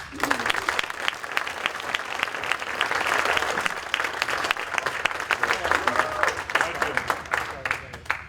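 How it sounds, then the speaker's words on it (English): Guests at a Chamber of Commerce awards dinner giving a long round of applause, loud, crisp clapping from a crowd that swells midway, with some voices mixed in. "we need to give a huge round of applause for our outgoing interim Chamber President and CEO, Jack Conley."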